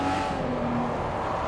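A Lotus Esprit Turbo drifting through left-hand bends in Forza Motorsport 4, its engine droning steadily with tire noise throughout, loud and continuous with no talking.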